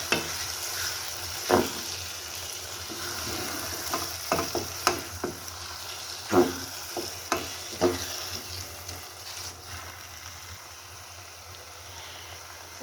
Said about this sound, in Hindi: अब इसके अंदर एक प्याली खोया हम ऐड कर देंगे। ठीक है जी, और इसे मिक्स कर लेंगे इसके अंदर।